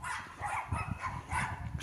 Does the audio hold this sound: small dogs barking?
yes